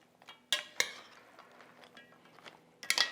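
Gluten-free stuffing ingredients being mixed in a dish, a few sharp utensil clinks and scrapes against the dish close by, with quieter rustling stirs between them and no speech.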